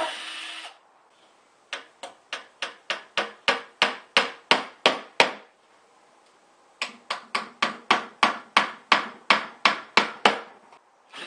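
Basic 1-inch wire nails are hammered into a wooden solar panel case in two runs of sharp, evenly paced close blows, each run speeding up slightly, with a quiet pause between.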